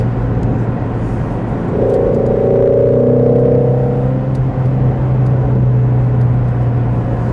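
A 2017 Ford Mustang Shelby GT350R engine drones steadily, rising in pitch as it accelerates mid-clip, then settling back into a low, even rumble from inside the car.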